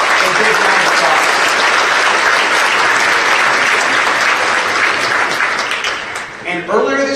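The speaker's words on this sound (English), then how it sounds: "Let's give our water commissioners and our department a big round of applause." Loud, sustained applause from the audience at a mayor's State of the City address, a thick roar of clapping that thins out near the end as a voice begins to speak.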